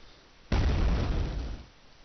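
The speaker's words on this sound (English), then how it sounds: "It's exploding up there." A loud explosion bursts out in the Quake II video game, a sudden booming blast that holds strongly for over a second before tailing off into quieter background rumble.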